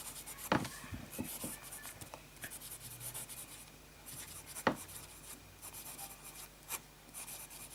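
A broad Lamy fountain pen nib scratches across paper, writing J. Herbin Rose Tendresse ink in soft, close rubbing strokes with a few sharper ticks, fairly quiet throughout.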